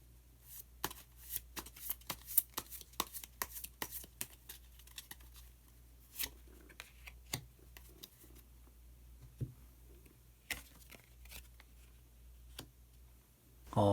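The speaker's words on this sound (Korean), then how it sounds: "마법사 카드를 한 장 더 모아보도록 하겠습니다" Tarot cards being shuffled and drawn during a reading: soft, quick riffling and flicking of cards in irregular bursts, close and quiet, with no one speaking.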